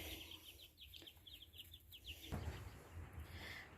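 Young chicks in a brooder give faint, rapid high peeps and soft clucks, followed by quiet rustling and handling noise, heard fairly close in a calm indoor setting.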